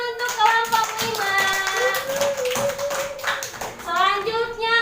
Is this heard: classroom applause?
yes